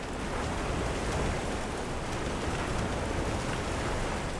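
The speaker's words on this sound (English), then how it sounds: "The rain's really coming down." Heavy rain pours down steadily in Monster Hunter Wilds, a dense, constant hiss with no pauses and no voices.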